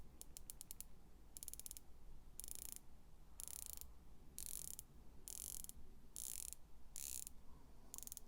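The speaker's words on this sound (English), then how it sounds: "the bezel is a 120 click unidirectional bezel. I'll let you take a listen." A Pagani Design PD-1679 watch's 120-click unidirectional bezel with a ceramic insert is turned, making faint, crisp ratcheting clicks in quick bursts repeated in a steady rhythm, close up and quiet.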